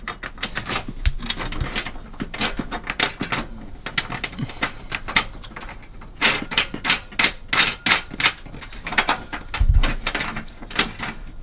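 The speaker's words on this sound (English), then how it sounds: "slide these big washers down inside over to your hole, drop your 1/2 inch bolt in, and then just put the nut on from the bottom." Big washers and a half-inch bolt dropping into a metal unistrut channel on a van bed frame, then a nut fitted, giving a long run of sharp metallic clanks and rattles, close and fairly loud.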